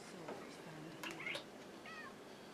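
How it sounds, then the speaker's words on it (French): A cat meows near a door indoors, a short faint call or two against a steady background hiss, with a person speaking softly nearby. "Salut le chat."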